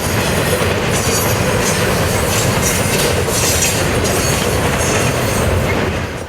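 Port Newark to Harrisburg intermodal freight train rolling past near Reading, Pennsylvania, a loud, steady rumble of wheels with rhythmic clickety-clack and faint squeals throughout.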